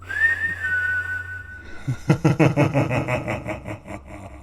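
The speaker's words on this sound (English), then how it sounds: "We hear an eerie sounding whistle along with strange laughter coming from further into the workshop" A thin, wavering whistle drifts at first, then a rough, rattling, engine-like rumble pulses in loudly and fills the rest.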